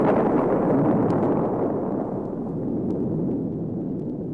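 A huge cosmic explosion as the giant planet Krypton bursts apart, heard as a loud, sustained roaring rumble that fades slowly over about four seconds.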